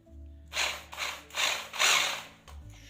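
A JCB-type rotary hammer drill set to breaker mode runs in several short bursts of loud, harsh rattling hammering, close up, between brief pauses, with the motor whining beneath.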